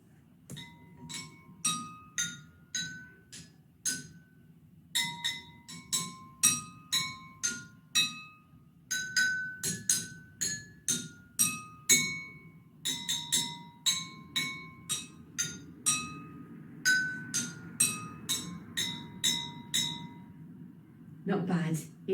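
A glockenspiel, a tuned percussion instrument, played in a slightly rough run of bright metallic strikes, each ringing briefly before the next, steady and close with a low background hum.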